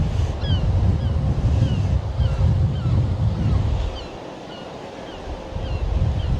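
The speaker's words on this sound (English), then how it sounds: "it's not sheltered here either. Even though the wind is coming off the land here." Strong wind buffets the microphone at Cruden Bay beach in Aberdeenshire, a loud continuous roar with surf washing behind it, easing briefly before gusting up again.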